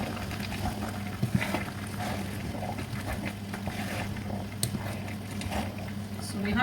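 Okra soup bubbling and simmering in a cooking pot, a steady soft boiling patter with occasional louder pops, heard close and continuous at moderate level.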